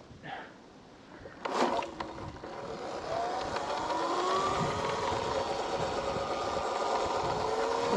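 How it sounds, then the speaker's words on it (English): Surron electric dirt bike riding along, its motor whine rising and sliding in pitch as speed builds, with wind rush filling in after a brief bump or clatter early on. "So I'll take this out for a few more laps and keep testing these wheels out."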